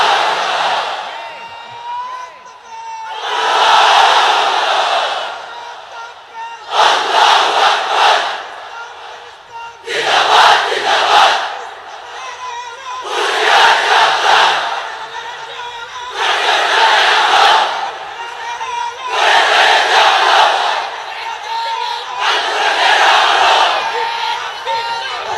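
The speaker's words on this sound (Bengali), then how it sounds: "এক একটা তাকবীরে যাতে এই প্যান্ডেল কেঁপে ওঠে।" A large crowd at an Islamic sermon chants takbir slogans in unison under a pandal. Eight loud, roaring bursts of voices come at a steady rhythm, separated by brief dips where a leader's call is heard.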